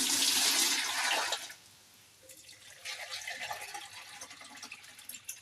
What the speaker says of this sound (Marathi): सर्वप्रथम 3 लिटर पाणी याच्यात टाकायचं आहे